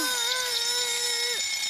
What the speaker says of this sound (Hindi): ये मेरी अलार्म क्लॉक है।